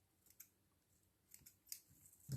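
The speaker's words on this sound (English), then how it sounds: "Got my finer scissors here" Small fine scissors snip quietly a few times while tying a fly, crisp light clicks spaced irregularly, close and faint in a still room.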